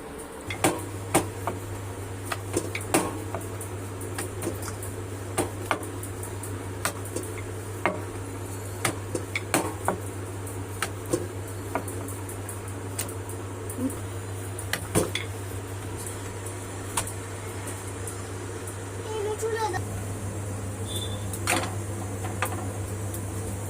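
A rolling pin working potato-stuffed paratha dough, giving scattered light clicks and taps at an uneven rhythm over a steady low hum in a home kitchen.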